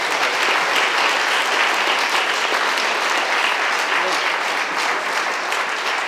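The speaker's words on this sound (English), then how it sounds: "we just give one last big applause" Sustained audience applause at a game-development workshop fills the room, a thick, unbroken wash of many hands clapping at steady loudness from start to finish.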